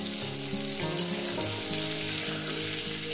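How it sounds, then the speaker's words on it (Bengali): Mixed vegetables frying in a covered pan give off a steady, close sizzle with a dense hiss that holds level the whole time, with no voices. "চাপা দিয়ে আমি এভাবে ভেজে নিয়েছি"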